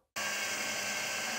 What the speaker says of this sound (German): dann können wir natürlich auch in den beiden Löchern mal mit einem Bohrer ganz leicht vorbohren